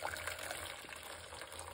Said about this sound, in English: We're gonna put some water in the pot. I'm using some hot water from my kettle.